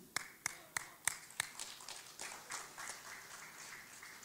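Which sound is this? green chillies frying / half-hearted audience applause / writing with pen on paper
half-hearted audience applause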